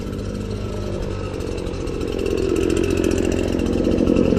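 A leaf blower drones outdoors with a steady, buzzy two-stroke engine roar close by, gradually growing louder toward the end, with no talk over it.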